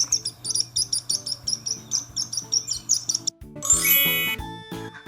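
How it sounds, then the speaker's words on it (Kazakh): A sparrow chirps in a quick, repeated run of bright high tweets, fairly close and clear, followed by a brief burst of higher, ringing trills near the end. "sparrow"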